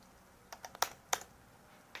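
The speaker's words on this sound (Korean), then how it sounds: "가독성을 위해서 엔터를 몇 번 정도만 띄워주세요." A few separate key presses on a computer keyboard, including the Enter key: sharp, close clicks spaced over two seconds, two of them louder, in a quiet room with no talking.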